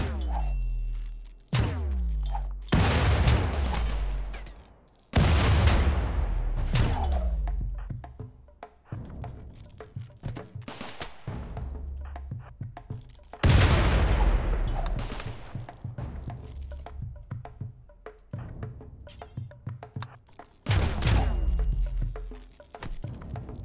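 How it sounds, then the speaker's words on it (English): Grenades go off in the RimWorld video game: a rapid run of sharp, loud blasts and thuds, several clustered bursts with brief gaps between them, and no talking. "Those are grenades, they've just spread everywhere."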